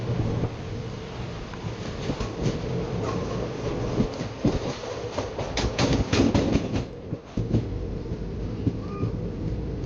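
A passenger train rumbles along the rails arriving at platform 1 of Nanded railway station, India, with rhythmic clickety-clack and metallic squeals, steady and fairly close, no voices.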